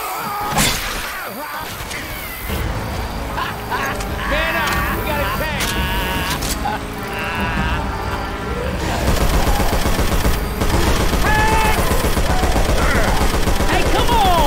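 Rapid gunfire bursts and thuds from Left 4 Dead 2 combat rattle through dense game noise and music, with a player's voice talking loudly over the shooting throughout.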